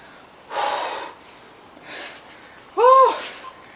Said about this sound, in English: breathe it out.